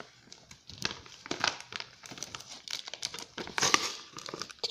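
Plastic packet crinkling and tearing as it is pulled open, a burst of crisp rustles and crackles close by, with no voices.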